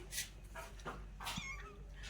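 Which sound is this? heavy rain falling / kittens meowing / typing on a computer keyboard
kittens meowing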